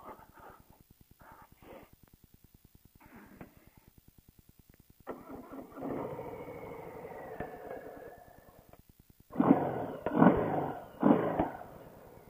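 A Harley-Davidson FXDR 114 motorcycle's starter clicks and cranks a few times before the big twin catches, idling with a lumpy rumble, then blipped into louder revs toward the end, close by with no talking.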